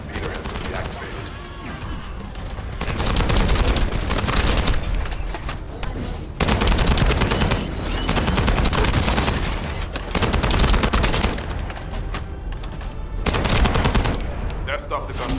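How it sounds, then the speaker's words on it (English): Rapid automatic gunfire and booming impacts in the video game The First Descendant, loud sustained bursts separated by short lulls across the whole stretch. "That stopped the gunfire."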